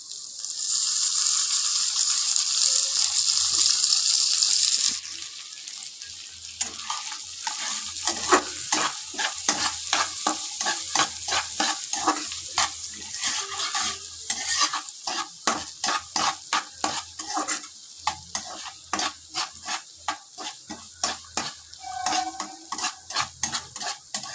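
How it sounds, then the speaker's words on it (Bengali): Loud steady sizzling of food frying in a pan for several seconds, then cut potatoes added and continued sizzle broken by repeated scraping, stirring strokes of a utensil, close up. "এর ভেতরে আমি দিয়ে দেবো কেটে রাখা আলুগুলোকে"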